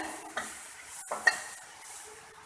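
Food in a pan is stirred with a spoon, giving a few soft scraping and clinking strokes over a faint, quiet sizzle after pepper, chopped parsley and a basil sprig have gone in.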